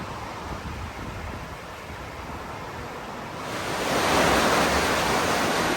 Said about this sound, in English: So we just come down to the lock here to let some water through.